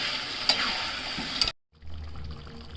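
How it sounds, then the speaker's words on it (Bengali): Mutton curry sizzling and being stirred in a pan for a rustic village-style dish, a steady frying hiss with a couple of scraping stirs, then a brief break before softer bubbling resumes. "একটু কষে নেবো, দিয়ে জল দেবো,"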